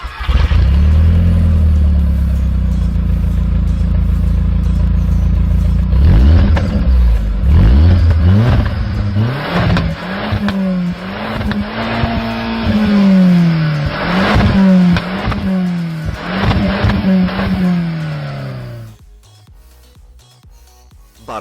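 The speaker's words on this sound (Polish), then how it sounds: "Dźwięk silnika jest atrakcyjny nawet na fabrycznym wydechu" LPG-fuelled Opel Zafira engine on its factory exhaust, idling loudly before being revved repeatedly in rising and falling surges, close and dominant, then cutting back to quiet near the end.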